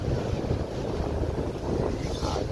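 Strong seasonal west wind buffets the microphone at Lamongan port during a container ship's berthing, a steady loud roar with broadband gusts throughout and no voices.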